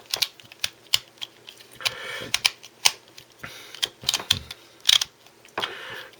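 A Q-Borg Pill twisty puzzle clicks into place as its layers are turned, giving a string of sharp, close plastic clicks in an irregular rhythm, some single and some in quick pairs.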